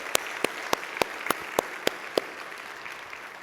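A church congregation claps in praise during a sermon: about nine sharp, evenly spaced claps in unison ring out at a brisk beat over a low background hum, then fade away.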